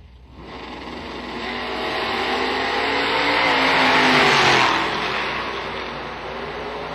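Drag racing cars at a bracket event, including the Combs Racing Camaro, roaring as engine noise swells to a loud peak and then eases off slightly while staying strong, a dense continuous race-car rumble.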